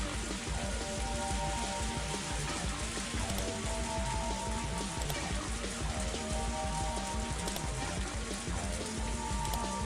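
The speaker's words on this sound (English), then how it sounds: "it would have been drowned out by the rain in the forest" Steady rain falls in a forest in the Higurashi video game, a dense, even hiss of countless drops pattering without a break. The downpour stays loud and close, with no voices heard over it.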